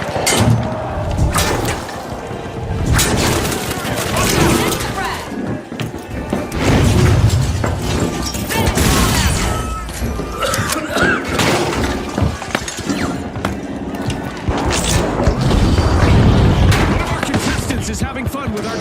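A frag grenade goes off in the destructible-environment shooter The Finals, a loud shattering crash set within dense, continuous game action where debris breaks and gunfire rattles throughout.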